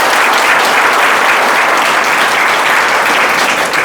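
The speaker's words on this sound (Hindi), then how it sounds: "तालियां ऐसे बजे कि एक बार दोबारा से गर्माहट आ जाए हथेलियों में" A large crowd at an event honouring a student's exam success claps hard, producing loud, dense, continuous applause close by with no break throughout.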